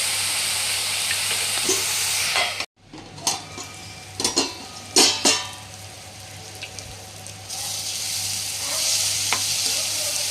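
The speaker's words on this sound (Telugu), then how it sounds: "ఒక 6 పచ్చిమిర్చి, కొంచెం మగ్గనిద్దామండి వీటిని" Green chillies and onions frying in a pan, a steady hiss of sizzling oil broken by a brief gap, then several clinking scrapes of a spoon stirring before the sizzle resumes loudly.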